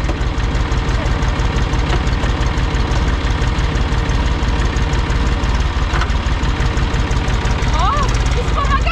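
An Ursus C-360 3P tractor with a Perkins engine idles close by. Its loud, steady low diesel chug runs throughout with slight knocking, and a voice talks over it.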